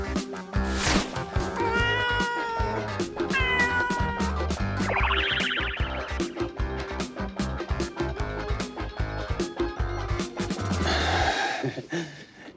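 During a group party game, a person imitates a kitten with a voice, making a long string of meows, mews and plaintive cries. The meowing is close and loud, with breathy gasps and snorts mixed in.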